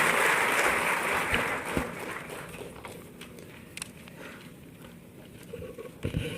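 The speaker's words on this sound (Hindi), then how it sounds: "आप सभी जोरदार तालियों के माध्यम से माननीय का स्वागत करें" Audience applause welcomes the Chief Minister at a ceremony distributing appointment letters to 1,510 newly selected instructors. Dense clapping is loudest at the start and gradually thins and fades, with a few scattered claps near the end.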